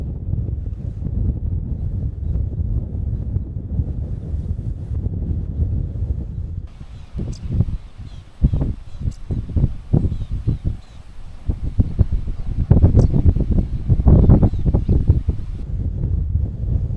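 Wind blowing across a riverbed on a cloudy, windy day on safari, a steady low roar with bursts of buffeting against the microphone that grow louder and gustier toward the end.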